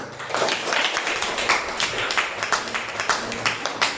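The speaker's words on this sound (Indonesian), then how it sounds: "Tepuk tangan" Students in an Indonesian classroom applaud, a steady patter of many hands clapping at moderate loudness for several seconds, with faint voices underneath.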